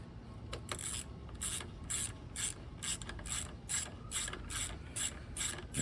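Ratchet wrench with a 12mm socket clicking on a Honda GL1500 Goldwing, a steady run of close, rhythmic bursts of pawl clicks, about two strokes per second, with no talk.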